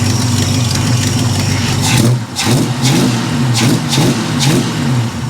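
A 1973 Plymouth Scamp's engine idles loud and close, then is blipped in several quick revs that flare up and drop back, with a rough, lumpy running note between them.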